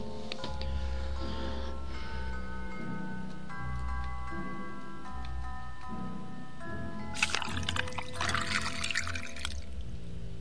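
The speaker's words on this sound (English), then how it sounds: "I guess I'll fetch a pail of water" A pail fills with water in the video game Alicemare, with a steady pour running under music and tones, ending in a loud, bright splashing rush over the last few seconds.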